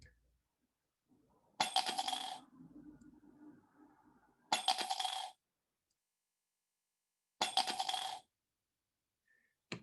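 Three separate 5p coins drop into a mug, each giving a sharp metallic clink with a brief rattle, spaced a few seconds apart against near silence, with a faint rolling jingle after the first.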